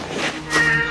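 A cat meows in The Black Cauldron video game, a short, close two-part meow that rises at the end and is heard on its own.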